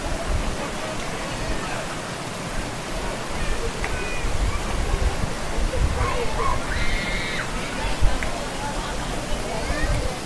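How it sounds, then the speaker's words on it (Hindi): A waterfall seen from a viewpoint at Pachmarhi makes a steady broadband roar of falling water, heard from a distance, with faint crowd chatter and occasional voices mixed in. "ये झरना नज़र आ रहा है।"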